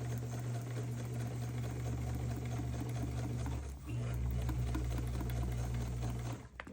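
A sewing machine stitches steadily with a low humming motor and fast ticking needle, briefly dipping when it pauses for a needle-down stop before running on again, close and continuous.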